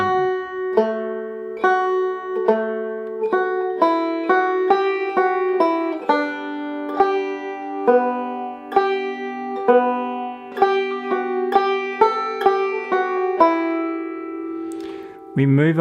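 A banjo plays the opening four bars of the fiddle tune Liberty, a steady run of plucked, ringing notes at a moderate tempo, close and clear.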